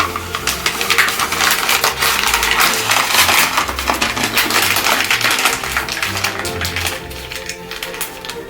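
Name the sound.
dry pet kibble tossed into a puzzle ball pit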